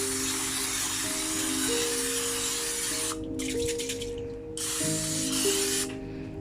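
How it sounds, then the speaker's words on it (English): Two long hissing bursts of cooking oil spray onto a baking mold, close and steady, with a brief pause between them. "so I'm going to use the spray"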